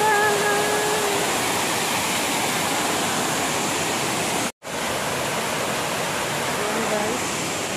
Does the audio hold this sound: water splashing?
yes